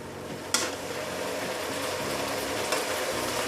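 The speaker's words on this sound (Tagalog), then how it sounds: "Haluin natin." Chicken legs being stirred in a pan of reducing, thickening sauce, a steady bubbling sizzle with a couple of short scraping clicks of the spoon, close and continuous, no talking.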